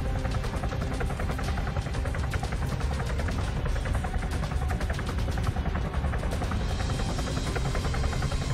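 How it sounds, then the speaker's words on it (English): Helicopter flying in the video game Arma 3, a loud steady rotor chop with rhythmic blade pulses droning continuously, close and dominant with no speech. "He's fucking high, that chopper."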